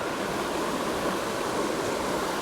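A constant, dense rush of falling water from a waterfall at a creek in the Los Angeles suburbs roars evenly throughout, with no pauses or voices.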